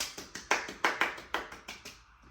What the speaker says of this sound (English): Hold on, let me clap myself.